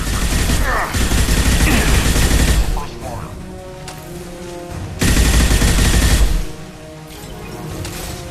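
Mercenaries firing weapons in the game Mass Effect 2, two loud sustained bursts of dense gunfire separated by a quieter stretch, with voices speaking through the fighting.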